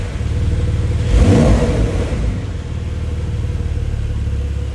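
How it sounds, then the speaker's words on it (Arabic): A 2024 Porsche 911 Carrera S rumbles with its six-cylinder exhaust, rising in one loud rev before settling back to a deep, steady idle, close and with no talking. "خلونا نسمع فاصل طربي جميل من الإكزوست"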